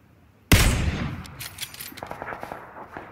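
A rifle fired in the video game PUBG: one loud, close crack with a long ringing tail, then a run of quicker, fainter shots and clicks trailing off.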